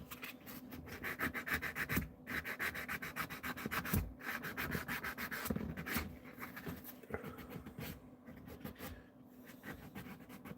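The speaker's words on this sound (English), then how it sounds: "So much sanding needs done." Steady, close rubbing strokes of sandpaper on a handmade back scratcher, a continuous rhythmic scraping that runs throughout without speech.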